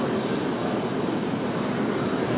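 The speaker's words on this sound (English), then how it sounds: "We've got Delta landing at 23 left. Delta 1550." A Delta Boeing 737-900 airliner, in from Atlanta, lands on runway 23 left at RDU, its engines giving off a loud, steady broadband roar that holds without a break.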